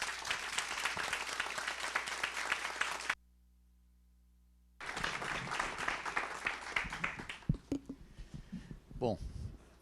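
An audience at a university inaugural lecture in Curitiba gives a loud round of applause welcoming a professor, broken by a stretch of near silence midway, then resuming and tapering off as a voice starts speaking.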